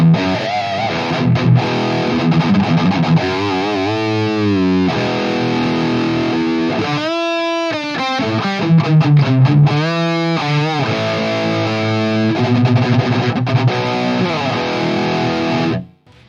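An electric guitar plays through the lead channel of an ENGL Savage 120 amp, with heavily distorted riffs and sustained lead notes that ring loud and continuous, with a brief gap midway, before being cut off abruptly at the end.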